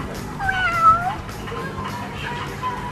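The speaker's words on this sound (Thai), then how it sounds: "จับแมวได้อีกตัวแล้วค่ะสีดำสวยมากเลย" A freshly caught black cat lets out a rising-and-falling meow up close, followed by softer, drawn-out mewing over faint background sounds.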